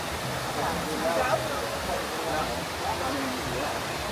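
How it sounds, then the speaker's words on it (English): A waterfall at Animal Kingdom theme park pours with a constant broadband rush of falling water, steady and fairly near, with faint voices mixed beneath it. "It's a nice waterfall coming off of it there."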